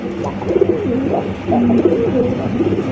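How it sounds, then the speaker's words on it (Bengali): Two satin pigeons coo in a steady, throaty rolling rhythm, close and fairly loud, with repeated low warbling phrases across the whole stretch and no voices. "দুইটা শার্টিন কবুতর দেখতেই পাচ্ছেন মাশাআল্লাহ একদম পুতুলের মতো দেখতে"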